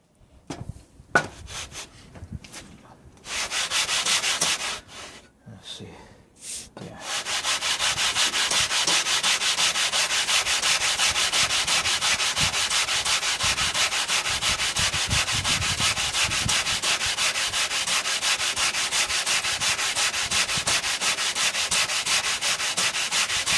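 Synthetic sharpening stones being lapped flat on sandpaper give a steady, loud, continuous gritty rubbing. It starts with a few short broken strokes, then runs unbroken for most of the clip.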